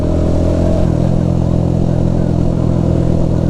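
Motorcycle engine running close and loud with a throttle that snaps sharply, likely from a faulty sensor; a dense, rumbling idle steps up in pitch into a rev and holds there, continuous with no voices.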